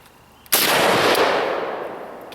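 An AK-47 rifle fires a single sharp, loud shot outdoors after a sand test, the blast ringing out and decaying over about two seconds, with no talking.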